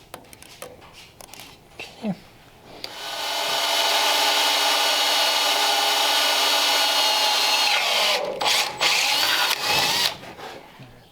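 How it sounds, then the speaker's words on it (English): An electric drill boring a bolt mounting hole for a flathead V8 engine mount on a 1929 Ford Model A shop truck, a few clanks and handling noises, then about five seconds of steady loud whine before it stops. "I'm going to drill that through."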